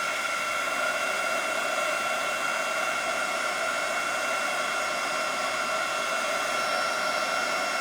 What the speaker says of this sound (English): let me get my heat tool and let's just emboss this Grateful real quick